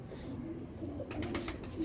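Rampuri pigeons at a Lahore pigeon market give a short, faint, close coo, with a few soft calls layered over low background noise.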